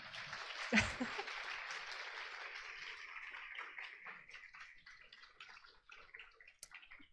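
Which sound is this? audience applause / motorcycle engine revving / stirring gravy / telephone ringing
audience applause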